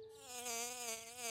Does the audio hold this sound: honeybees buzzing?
yes